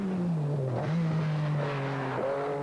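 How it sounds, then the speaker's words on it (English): An MG Metro 6R4 Group B rally car races on a stage of the 1986 San Remo rally, its engine holding a loud, steady drone with a brief dip and recovery, close and alone. "Tony Pond running third in the MG Metro 6R4."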